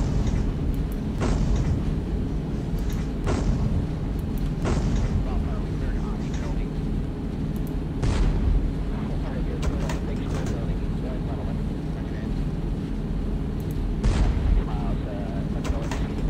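AC-130 Spectre gunship cannon fire in Arma 3 lands as five spaced, heavy distant thuds over a steady engine drone, while a voice talks throughout.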